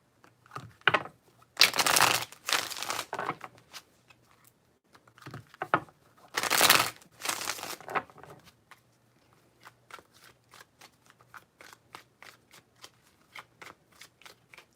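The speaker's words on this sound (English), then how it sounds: "3 shuffles." Tarot cards are shuffled in two loud riffling bursts, then a run of quick, soft, evenly spaced clicks as the deck is handled, close up with no talking.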